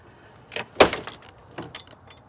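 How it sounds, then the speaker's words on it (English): An old screen door on an old house bangs shut with one sharp slam, followed by a few lighter rattling knocks as it settles, close and alone. "That old screen door slamming on the old house."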